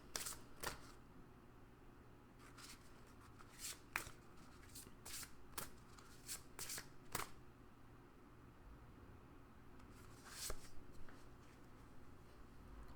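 Tarot cards from a Work Your Magic deck being shuffled, with soft riffling and sharp card snaps in an irregular rhythm, close and quiet with no talk.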